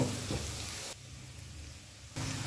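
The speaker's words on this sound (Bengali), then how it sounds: "আদা রসুন বাটা দিয়েও এক মিনিট ভেজে নেব" Ginger garlic paste frying in a pan with onion paste and red chilli powder gives a close, steady crackling sizzle that drops abruptly quieter midway and then returns to full strength, with no talking.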